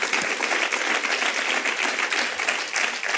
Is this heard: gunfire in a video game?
no